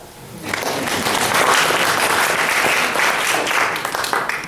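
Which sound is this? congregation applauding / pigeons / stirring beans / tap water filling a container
congregation applauding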